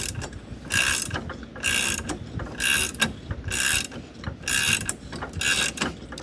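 A ratchet tightens an offset gooseball hitch for RV and trailer towing. Close, moderately loud clicking comes in about six regular bursts, each a quick run of ratchet clicks with short pauses between.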